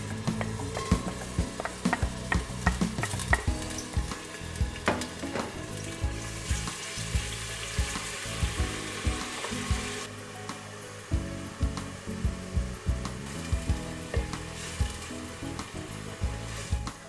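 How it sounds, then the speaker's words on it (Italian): Chopped onion and shallot fry in heated extra virgin olive oil, a steady close sizzle with repeated clinks and scrapes of stirring throughout, no voices. "adesso andiamo a mettere la cipolla e lo scalogno che ho tritato prima"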